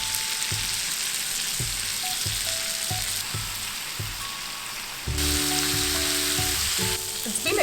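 Prawns for prawn tandoori fry steadily in a hot pan, a continuous loud sizzle with occasional bursts of spatter and a sharper change partway through as they are turned, with no talking.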